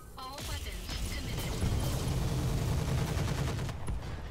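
Weapon fire in the video game Roguepoint: a dense, sustained barrage of overlapping shots and impacts at moderate loudness, running almost continuously through the moment.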